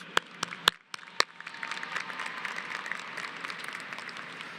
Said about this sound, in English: Please join me in thanking all of the teachers and staff members in Arlington ISD that have made an impact on your life with another round of applause.